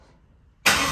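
LS-swapped Ford Crown Victoria being backed out, its engine first a low, quiet idle rumble, then abruptly bursting into a loud, sustained roar.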